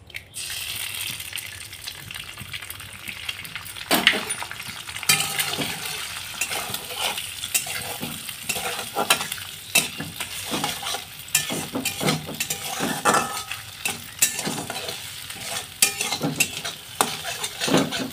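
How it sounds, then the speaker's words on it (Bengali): An egg fries into a bhujia scramble in a pan with a pinch of turmeric, a continuous sizzle broken by repeated sharp scrapes and clacks of a spatula stirring it up close. "এই ডিমটাকে এর মধ্যে দিয়ে আমি ভুজিয়া করে ভেজে নেব"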